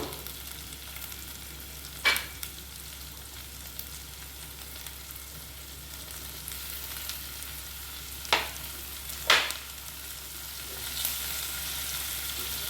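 Onions, green chilies and chopped tomato roast in oil in a pan for a dhaba-style spinach bhaji, giving a low, steady sizzle broken by a few sharp stirring clinks.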